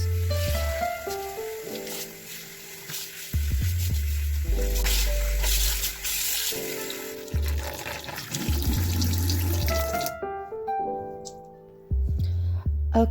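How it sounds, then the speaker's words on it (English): Tap water running at a sink while styling products are rinsed out of a wig, a continuous close splashing rush that shifts as hands move through the hair, then cuts off near the end. "Now you just gotta rinse off all the products out of the hair."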